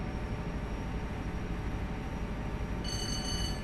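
A short electronic warning tone from a train's cab safety system in Train Sim Classic, an AP Virgin HST running from Paddington to Newton Abbot, sounds as a steady high chime near the end over continuous loud engine and rail rumble.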